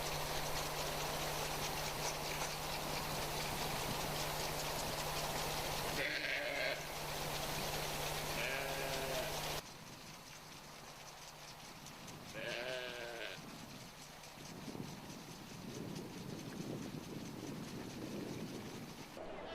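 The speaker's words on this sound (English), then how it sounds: "Wherever the nanny goat goes, the kids stay close by." Nanny goat and her kids bleating on a farm, several short wavering calls at moderate distance, separated by pauses over a steady outdoor background with a constant low hum.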